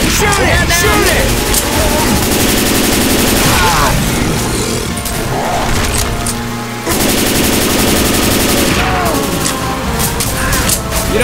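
Rapid, loud video game gunfire from Left 4 Dead 2, dense bursts of automatic shots with brief pauses and impacts, with shouted voices over it.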